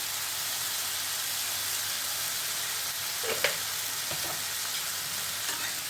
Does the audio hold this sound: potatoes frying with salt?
yes